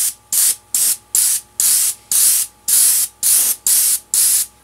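An airbrush sprays paint onto a prop mask in ten rapid, evenly spaced hissing bursts, each about a third of a second, loud and close with brief silences between passes.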